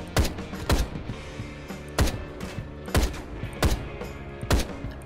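Rifle fire in the video game Ride To Hell: Retribution, a 30-round weapon: sharp, loud shots in an irregular rhythm, six or so bursts over a few seconds, with metallic mechanical clatter between them.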